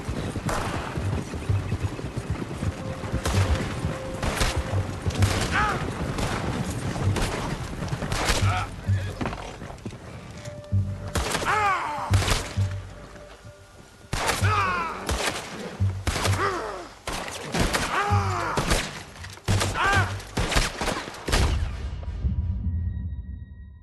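Gunfire in the Red Dead Redemption 2 video game, a long run of sharp shots and volleys in irregular bursts, loud and close, with voices calling out between them.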